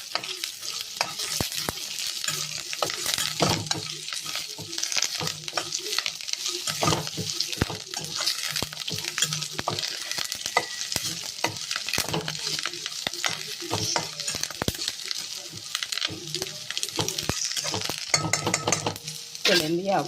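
Spices fry with curry leaves in a pan for a dense, continuous sizzle. Rapid scraping and clattering of a utensil stirring against the metal carry on throughout, close and busy, with no talk.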